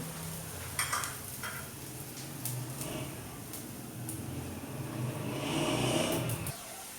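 Onions browning in a pan for a dhaba-style potato spinach dish, a steady close sizzle and crackle with occasional stirring scrapes throughout, no talking.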